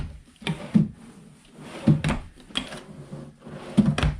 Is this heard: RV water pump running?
no